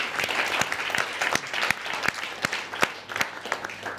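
A conference audience applauds graduates at an evening event, a sustained, fairly distant wash of many hands clapping with a few sharper individual claps standing out.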